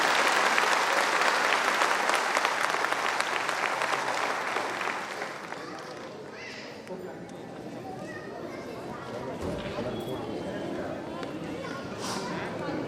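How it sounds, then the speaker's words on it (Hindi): A dense wave of audience applause fills the start of a cleanliness award ceremony in Varanasi, then fades after about five seconds into crowd murmur and scattered claps. "आप कृपा करो इस काशी की प्रबुद्ध जनता का आप तालियों की जोरदार गड़गड़ाहट से स्वागत करें।"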